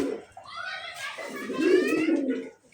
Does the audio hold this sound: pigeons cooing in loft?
yes